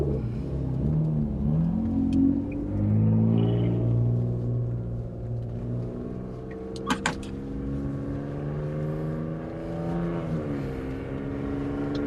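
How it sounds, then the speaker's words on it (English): A Toyota pickup truck drives along a street on a Saturday morning, its engine a steady low rumble that swells and fades as it passes, with a brief sharp click partway through and no talking. "So there's the Toyota pickup, guys."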